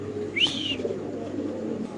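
A yellow Gorra pigeon gives a single short coo, close and clear, over a steady low background hum at a pigeon seller's stall.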